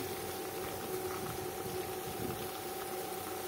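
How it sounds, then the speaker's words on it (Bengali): Spices with turmeric, red chili, cumin and coriander powder sizzle in oil for a rohu fish curry with tomato and potato, a steady, close bubbling and frying hiss running without pause and with no voices. "মশলাগুলোকে এখন কষিয়ে নেব"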